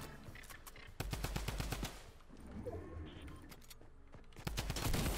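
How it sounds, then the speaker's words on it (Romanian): Rapid bursts of video game gunfire from a shooting bot, with loud automatic volleys in quick succession, a quieter stretch in the middle and a heavy burst near the end. "Jules e un NPC, un bot de la joc și că trage prost"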